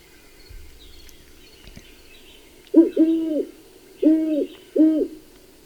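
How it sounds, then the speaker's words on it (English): A great horned owl gives a series of four deep, resonant hoots, the first two paired, then two more spaced apart, moderately near over a faint background hum with no talking. "That's the great horned owl."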